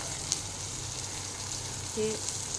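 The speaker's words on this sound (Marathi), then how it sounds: "आता मिरची छान परतली आहे यामध्ये मी आता टमाटर घालत आहे" Green chilies and tomatoes frying in a pan give a steady, soft sizzle that runs quietly and continuously, with a slightly brighter crackle near the end.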